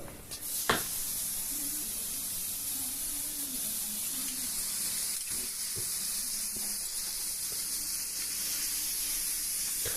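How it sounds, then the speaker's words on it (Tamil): Onion, tomato and curry leaves fry together in a little oil for chicken biryani, giving a steady, even sizzle and hiss throughout, with a single clink near the start and no voices. "வெங்காயம் தக்காளி கருவேப்பிலை இது மூணையுமே ஒன்றா போட்டு நல்லா ஃப்ரை பண்ணிக்கலாங்க"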